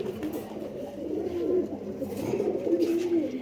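Indian pigeons of the Chandakhani breed cooing in low, soft, rolling murmurs that run steadily through the moment, fairly close by, with no talk over them.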